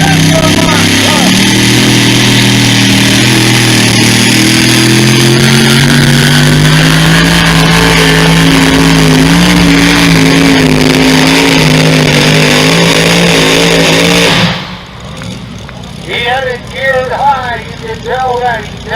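Pulling truck engine at a truck pull at the Washington County Ag Expo roars at high revs, climbing in pitch and holding loud and near before cutting off abruptly, then a crowd and announcer-style voices take over.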